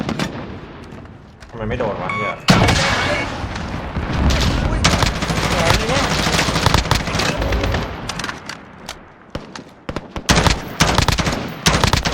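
Gunfire in Call of Duty Warzone: loud bursts of automatic weapon fire and single shots crack in rapid clusters with brief pauses, while players talk over the shooting.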